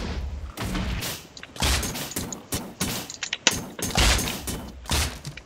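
Rapid bursts of gunfire from a python gun in a Minecraft war video game, loud and repeated in uneven clusters, with booming thuds between volleys and no talking.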